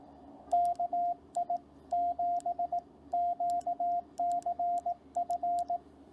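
Clean single-pitch Morse code tones keyed in groups of dots and dashes, spelling out a call sign in steady rhythm with brief gaps.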